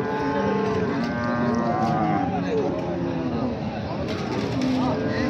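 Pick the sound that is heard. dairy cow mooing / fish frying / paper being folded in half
dairy cow mooing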